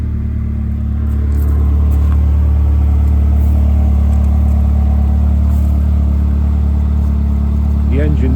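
A Ferrari 360 Spider F1 V8 idles close by just after start-up, a steady, smooth low rumble that holds evenly throughout, with faint background sounds near the end.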